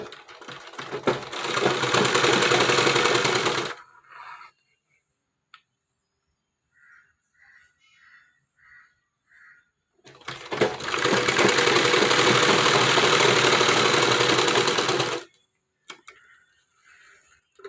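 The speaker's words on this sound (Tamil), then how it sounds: "இப்போ நம்ம ஈஸியாக தைச்சிட்டு வந்துடலாம்." Sewing machine stitching blouse fabric in two long continuous bursts of fast, steady whirring, separated by a pause with a few faint mechanical clicks.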